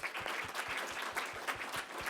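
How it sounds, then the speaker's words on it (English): Audience applause for presenters at a public health talk, a quiet, distant patter of clapping with soft individual claps audible throughout. "let us clap for the presenters"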